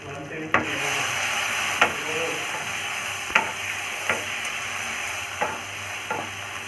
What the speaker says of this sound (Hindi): इसको 1 से 2 मिनट तक इसको फ्राई करते रहेंगे।